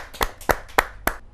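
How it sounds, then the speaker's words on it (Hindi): Four slow, distinct handclaps ring out at a Hindi poetry recital, evenly spaced and fairly close, with no talking over them. "एक जोरदार तालियों के साथ"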